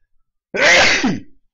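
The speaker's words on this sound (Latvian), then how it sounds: "Atvainojot, tā kā šķaudīšu." A single loud, close sneeze from a man with allergies, a sudden explosive burst lasting about a second before trailing off into silence.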